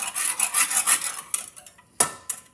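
A wire whisk scraping and rasping against a pan, a run of close, uneven scratchy strokes that thin out, followed by a couple of sharper isolated scrapes.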